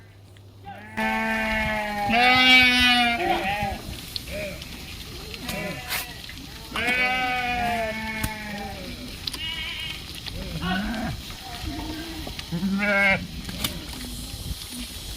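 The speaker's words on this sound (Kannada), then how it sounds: "ಇವರೆಲ್ಲ ಮಂದೆ ಕುರಿ ಮೇಯಿಸೋ ಅಂಥವ್ರು" A flock of sheep grazing around a village bleats repeatedly, with several loud, wavering calls rising close by and fading, while a person talks briefly in between.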